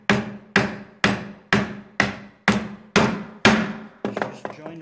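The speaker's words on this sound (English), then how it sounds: "I also can use a certain amount of twisting to guide the mortise chisel" Mortise chisel driven into joinery-grade redwood with a mallet, about eight sharp, evenly spaced wooden knocks at close range, each ringing briefly, followed by a few quicker lighter taps.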